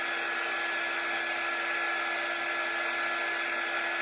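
A hair dryer runs steadily on a freshly painted boutique board, a continuous close whooshing hum with no breaks and no talking.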